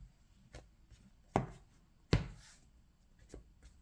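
Cutting a shuffled deck of Cardfight!! Vanguard cards on a table, a few soft, close taps and slaps of card stacks being set down, two sharper than the rest, with quiet pauses between.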